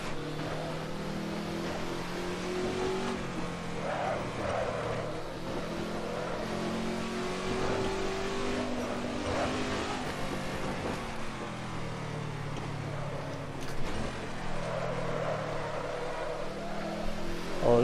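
Ford GT40 racing laps in Assetto Corsa, a continuous engine drone that rises and falls in pitch through repeated acceleration and gear changes, steady and fairly close, with no talk.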